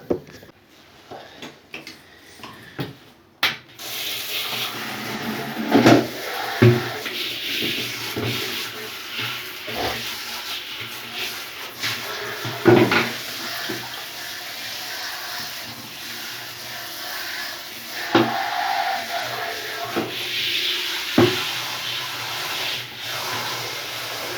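A chicken waterer is scrubbed clean and refilled with fresh water during morning chores, giving irregular rubbing and scraping strokes with occasional knocks and splashy handling, close by and moderately loud over a steady background.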